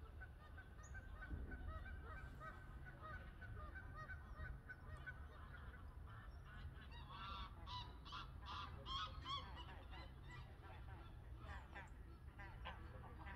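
Ducks honk and quack in a lively cluster midway through, carried over a low rumble of outdoor noise on the water.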